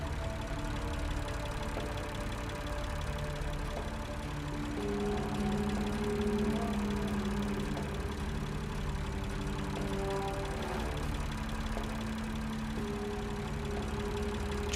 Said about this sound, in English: Judging by the engine noise and the smell, there are diesel generators in this shed.